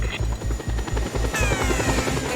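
A video game helicopter's rotor thumps in a steady, rapid rhythm, loud and close, with a whining engine tone over the chopping beat.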